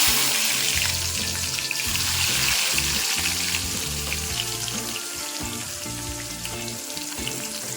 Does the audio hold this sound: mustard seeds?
yes